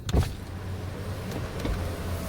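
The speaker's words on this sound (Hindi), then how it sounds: "one touch up and down जो विंडो मिलती है वो ड्राइवर साइड की मिलती है" The driver-side one-touch power window of a 2025 Hyundai Verna runs inside the cabin, a steady low electric motor whir lasting a couple of seconds after a brief initial thump, with no talk.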